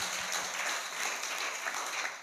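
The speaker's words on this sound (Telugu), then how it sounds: "ఇప్పుడు గట్టిగా చప్పట్లు కొట్టండి." A congregation at a Christian sermon claps together in a dense, sustained burst of applause that stays fairly even throughout.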